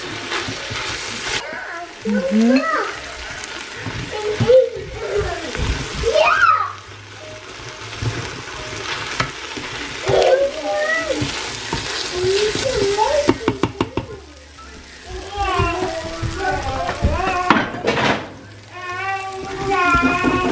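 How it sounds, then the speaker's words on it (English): Diced potatoes fry in a pan, turned with a wooden spoon, with a steady sizzle and occasional scraping under ongoing talk from an adult and a child. "I'm going to just cook this for about 2-3 minutes just so it softens and some of that water is gone from the potatoes."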